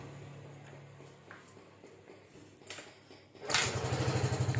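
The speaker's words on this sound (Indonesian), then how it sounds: "Kita akan coba selah motornya." A Yamaha Freego scooter with a weak, often-drained battery and a non-working electric starter is kick-started: quiet kick strokes, then the engine catches and runs loud and steady at idle, close by.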